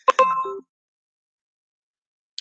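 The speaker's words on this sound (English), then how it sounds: "My computer's trying to catch up with notifications." Two quick electronic notification chimes from a computer, short and clear, followed by silence and the start of another tone at the very end.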